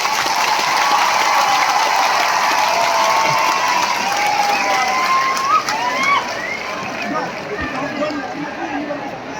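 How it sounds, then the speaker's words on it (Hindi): A large audience at a stage event applauds and cheers continuously at close range, a dense steady wash of clapping with crowd voices mixed in. "सबसे बड़ा ताली आपको होना चाहिए।"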